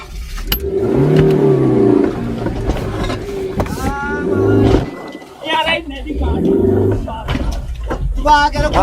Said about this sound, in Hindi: अभी रमेश भैया की गाड़ी ना यहाँ के लोकल ट्रांसपोर्टर निकाल रहे हैं